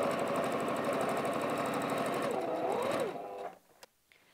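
A sewing machine runs continuously, top stitching a tablet cover with a fast, even mechanical rattle for about three seconds, then slows and stops, leaving a few faint clicks.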